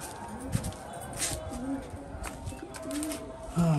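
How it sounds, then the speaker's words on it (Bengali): Pet pigeons coo softly at close to moderate distance, a few low throaty calls rising over a murmuring background where voices are faintly present. "খুব কষ্টের একটা বিষয়, কবুতরগুলা ছেড়ে দিতে হইতেছে।"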